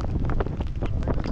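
Strong wind of about 21 knots buffeting a microphone aboard a sailboat at sea, loud continuous gusty roar and flutter, close and unbroken.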